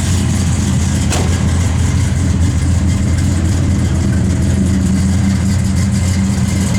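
A 1967 Plymouth GTX V8 engine idles and revs up close, a loud steady rumble with rising blips of throttle, no voices.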